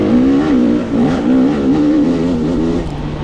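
A Yamaha dirt bike in the 60-plus class at a fast, dusty tight-woods hare scramble, its engine revving loudly and continuously with rises and dips in pitch as the rider works through the course.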